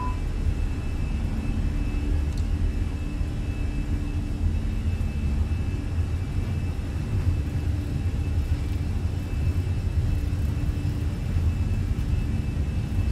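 Airliner engines spooled up to takeoff thrust on the runway, heard as a continuous, loud, low-pitched roar with a thin steady whine riding above it, unchanging in level for the whole stretch and with no voices over it.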